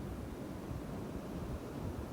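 Ocean surf rolling onto a sandy shore, a steady broadband wash of breaking waves with wind noise, continuous and fairly loud with no distinct individual breakers.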